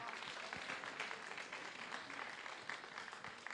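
A crowd at a youth forum applauds a panel with a continuous wash of clapping that holds at an even level throughout, moderately loud and unbroken.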